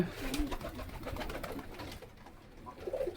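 Domestic pigeons in a home loft coo softly in low, throaty, repeated calls. The cooing is faint and close together, over quiet background noise.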